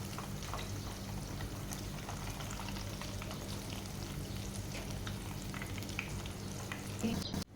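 Brinjal slices frying in hot oil give a steady, low-level sizzle and crackle that carries on throughout without a break, with no talking over it.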